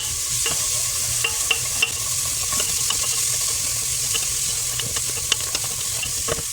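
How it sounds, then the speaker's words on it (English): Tomato paste toasts and sizzles on the bottom of a pan for birria while a utensil scrapes and stirs it, a constant frying hiss broken by sharp, irregular scraping clicks, close and loud without talk. "we're just going to start mixing this tomato paste around the bottom. We're toasting it."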